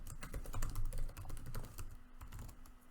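Someone types an email address into an online sign-up form with rapid, continuous keystrokes on a computer keyboard, close and steady, with no voices.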